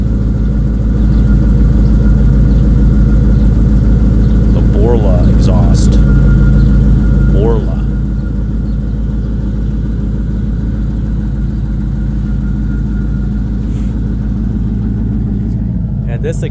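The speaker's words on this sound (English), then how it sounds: "Borla exhaust." A 1991 Formula F-body car with a Borla exhaust idles during a winter maintenance check, a steady, deep, rumbling drone close by, slightly louder for the first few seconds before settling.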